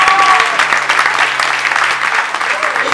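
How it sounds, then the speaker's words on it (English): An audience applauds at a memorial gathering for a late musician: a loud, steady round of clapping with a voice speaking over it. "Please clap. That's talent."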